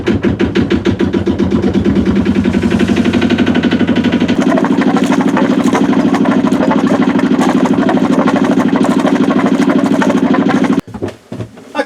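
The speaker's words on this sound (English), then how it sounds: "Let's take a look at what happens when we speed the engine up a bit." A Yanmar 1GM10 single-cylinder marine diesel runs loud and close, its rapid knocking pulse climbing in pace as it is revved, then holding a steady faster beat before cutting abruptly near the end.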